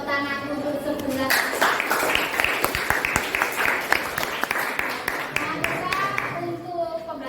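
A classroom of students claps together in steady group applause, the dense clatter running for several seconds between a teacher's spoken words.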